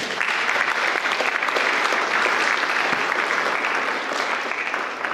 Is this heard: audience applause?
yes